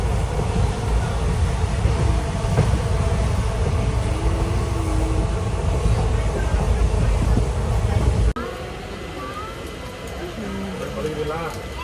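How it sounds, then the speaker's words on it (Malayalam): A passenger train from Kollam pulls into a railway station, a continuous loud rumble and rolling clatter with a person talking over it. The sound cuts abruptly to a quieter platform ambience near the end. "നമ്മുടെ ട്രെയിൻ വരുന്നു കൊല്ലത്തു നിന്നുള്ള."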